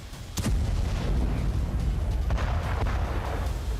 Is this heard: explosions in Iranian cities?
yes